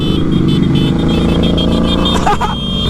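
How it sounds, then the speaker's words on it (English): A Honda Grom motorcycle engine revs hard during a ride, giving a loud, close, sustained buzzing drone with a steady pitch and a brief shift near the end. "Oh, we're revving her out."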